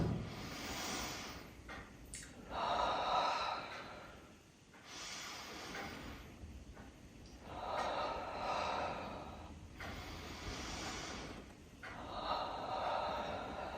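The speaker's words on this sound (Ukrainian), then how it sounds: "Давайте трохи подихаємо з вами. Давайте. Е, через ніс, видихаєте ротом." Slow guided breathing during a first psychological aid training on fear: several long, audible breaths drawn in through the nose and blown out through the mouth, each lasting a couple of seconds, close and steady with no talking.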